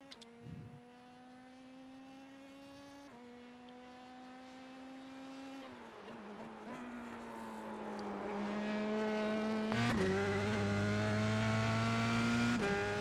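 An F3 race car in a racing video game laps Mount Panorama at Bathurst, its engine a loud, steady, high-pitched whine that drops at each upshift and climbs back as it builds speed.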